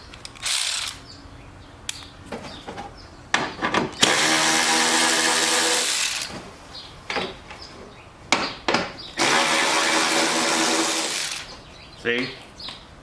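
A 3/8 deep well socket on a power driver spins out bolts from a mower housing, giving two long, loud whirring bursts between shorter mechanical rattles and clicks, with a voice talking in between.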